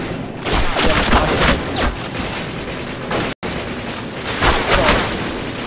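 Sustained gunfire in the World War II shooter Call of Duty Classic during a tank battle at a bridge: dense, loud, continuous volleys of rifle and machine-gun fire with one brief dropout, with talk faintly underneath.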